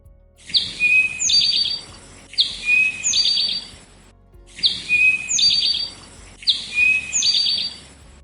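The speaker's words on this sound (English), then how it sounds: "A good memory phrase for the eastern towhee is, "Drink your tea."" An eastern towhee sings its 'drink your tea' song four times in a regular rhythm, each a bright clear phrase ending in a trill, fairly close and alone.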